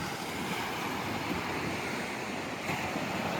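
Steady ocean surf washes continuously onto a sandy beach, a constant broadband roar with faint wind noise and no voices.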